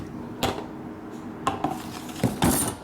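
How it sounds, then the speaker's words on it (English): A metal hand drum barrel pump for diesel and gas being handled, giving a few separate clanks and rattles of metal parts, close and fairly quiet, with pauses between knocks. "Get your barrel pump right here"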